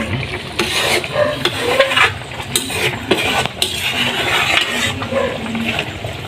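Food fried in a pan with a little MSG and salt is stirred steadily, giving a loud, close sizzle broken by repeated scraping strokes of a utensil against the pan.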